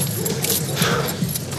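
Car keys jangle with a short metallic rattle, soft and close, heard alone over quiet background noise.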